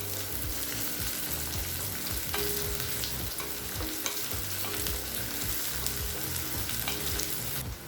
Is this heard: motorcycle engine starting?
no